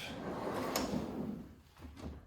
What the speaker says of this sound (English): This is my, what you call supply drawer.